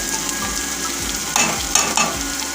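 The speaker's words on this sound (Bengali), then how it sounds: "পেঁয়াজটাকে আমি লাল লাল করে ভেজে নেব।" Onions frying in oil with asafoetida for a chicken curry, a constant close sizzle with soft thuds and scrapes from stirring every half second or so.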